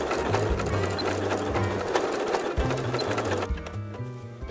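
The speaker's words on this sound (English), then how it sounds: "I'm using a walking foot on my machine." A sewing machine fitted with a walking foot quilts a casserole dish carrier, running in steady rapid stitching bursts with brief pauses and a clear close mechanical clatter throughout.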